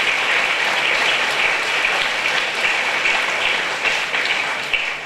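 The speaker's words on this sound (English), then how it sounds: "So how about another round of applause for Steve and the HVO gang doing just an awesome job." An audience at a Hawaii County briefing gives a steady round of applause for Steve and the HVO team, a dense, even wash of many hands clapping that holds for several seconds with no talking.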